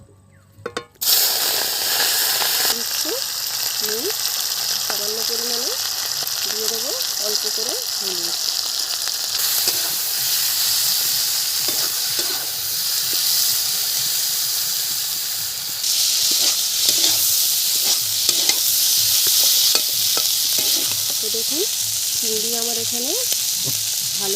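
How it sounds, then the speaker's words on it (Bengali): Prawns sizzle and spit in hot oil in a wok, a loud, steady broadband hiss that surges as they hit the pan and runs for the whole stretch, with brief voices speaking quietly underneath. "এখন আমি কড়ায় তেল দিয়ে দিচ্ছি কড়া গরম হয়ে গেছে এখন আমি দিয়ে দিচ্ছি চিংড়ি"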